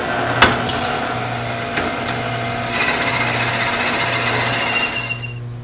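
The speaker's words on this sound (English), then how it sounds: "We stopped the tape for a minute while I was drilling this hole." A twist drill bores a hole in wood on a lathe, giving a steady loud mechanical whirr with a rhythmic chatter and a few sharp knocks, then stopping.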